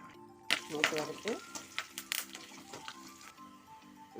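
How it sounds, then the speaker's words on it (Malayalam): Mustard seeds sizzle and pop in hot oil while being tempered for an onion and drumstick theeyal, with sharp crackles and spurts over a steady frying hiss, close by; a voice speaks briefly. "ഇനി നമുക്കിതിൽ കടുക് താളിക്കാം."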